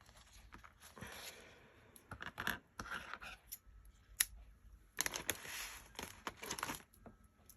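Scissors snipping string for a small journal bow, a series of crisp close cuts in irregular clusters with quiet pauses between, including a sharp isolated snip midway.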